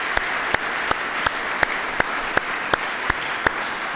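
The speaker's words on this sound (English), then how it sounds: "a quick applause for their time right now" Applause at the 2014 Universal Design Grand Challenge student awards: a steady wash of clapping with one sharp, evenly spaced clap standing out about three times a second, fairly close and with no voices.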